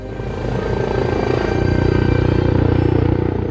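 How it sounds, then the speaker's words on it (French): A loud, close rescue helicopter landing at its base, with a steady thumping rotor beat and a deep engine drone that gets heavier partway through as it settles down. "Au moment où l'hélicoptère se pose sur la base"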